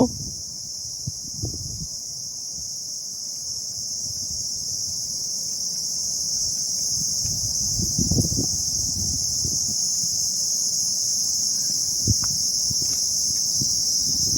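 Crickets on Henry Island shrill in a constant high, dense chorus, with soft wind rumble and light rustling and footsteps underneath.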